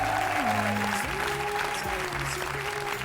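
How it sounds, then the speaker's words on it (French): Studio audience of a French TV game show applauding guests, steady loud clapping throughout with a sustained music tone running beneath it. "nos amis Karine, François, Cécile et Mathieu, que nous applaudissons très fort"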